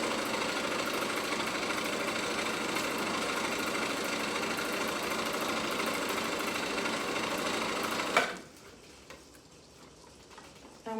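A sewing machine stitching fabric for a headwrap, a steady rapid mechanical whirring and ticking that runs evenly for about eight seconds, then stops abruptly, leaving faint room noise.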